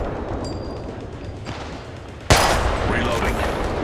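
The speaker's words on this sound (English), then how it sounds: "The enemies are shooting at me." Enemy gunfire in the mobile shooter Apex Legends Mobile: a loud sharp crack cuts in partway through and gives way to a dense burst of rapid shots over steady game noise.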